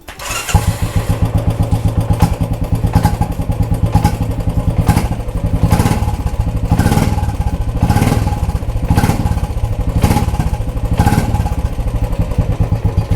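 An older Royal Enfield motorcycle starts and then idles loud and close with its characteristic rhythmic single-cylinder thump, the beat steady throughout and no voices over it.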